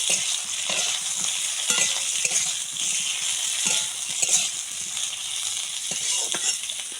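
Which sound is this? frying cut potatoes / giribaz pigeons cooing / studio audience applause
frying cut potatoes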